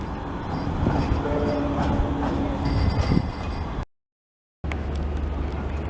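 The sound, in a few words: Manchester Metrolink tram at St. Peter's Square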